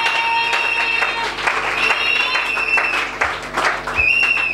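A church congregation in Kinshasa claps and cheers for Jesus in loud, sustained applause that carries through the whole stretch, with voices shouting and a steady hum of music underneath.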